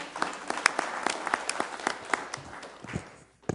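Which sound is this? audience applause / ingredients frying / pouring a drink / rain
audience applause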